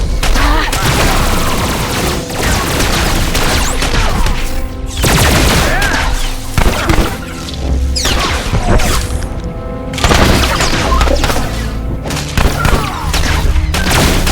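Blaster gunfire rattles through a Star Wars: The Old Republic battle in loud, dense volleys, with rapid bursts, heavy booms and short gaps between salvos.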